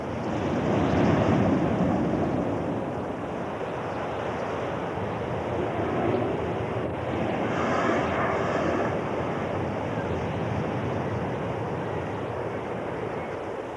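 Light surf breaks steadily over offshore reefs, a continuous broad wash of water with gentle swells rising and falling, mixed with wind rumble, no voices.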